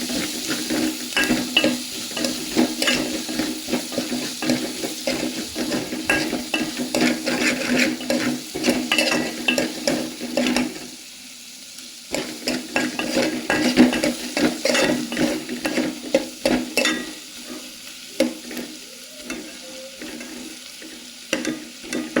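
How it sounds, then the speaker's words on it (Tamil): Onion, green chilli and garlic sauté in a pan for a taro-root kara kuzhambu, with steady close sizzling and repeated scraping stirs, briefly quieter midway, and no talking. "வெங்காயம் கொஞ்சம் நல்லா வதங்கணும்."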